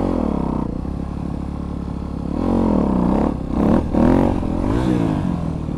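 Motorcycle engine held at a steady idle-like chug, then revving up and down in a few surges as the front wheel lifts in a wheelie, close and loud with some clatter.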